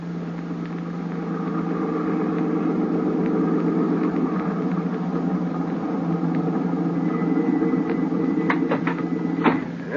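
A steady mid-pitched car engine hum runs throughout as a radio drama sound effect, even and unbroken, with a few brief mechanical clicks near the end.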